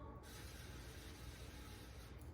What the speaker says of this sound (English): I'm gonna spray them lightly with some olive oil.